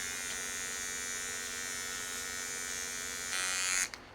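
A cheap battery-operated electric toothbrush buzzes steadily up close while being used to hand-pollinate tomato plants in a greenhouse; the tone shifts briefly near the end before it cuts off.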